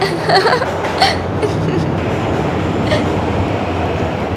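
A train arriving at a station rumbles and rattles steadily nearby, with a few brief clanks and squeals at the start and faint murmurs over the continuous noise.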